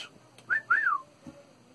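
A person whistles two short rising-falling notes close by, with a fainter chirp afterward in a quiet room.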